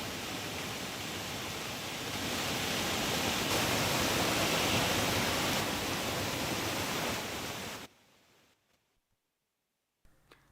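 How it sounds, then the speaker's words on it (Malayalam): Strong wind blowing over the sea during a storm with a red alert, a loud broadband roar that stays steady for about eight seconds, then cuts away to near silence. "കടലിൽ ശക്തമായ കാറ്റടിക്കുന്നു"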